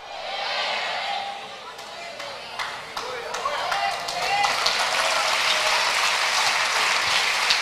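Church congregation applauding during a sermon, clapping building gradually from a thin start into a dense, loud crowd ovation with a voice over the start.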